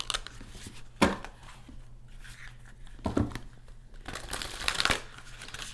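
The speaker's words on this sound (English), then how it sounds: "I'm going to pull some spirit animal cards." Spirit animal oracle cards are shuffled and handled, with a few sharp slaps and riffles standing out among soft papery rustling up close, no voices.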